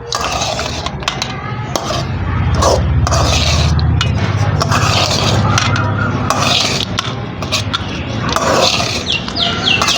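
Meal maker curry is stirred in a pan with a ladle, giving repeated metallic scrapes and clinks against the pan. Chirping birds and a speaking voice come in and out in the background.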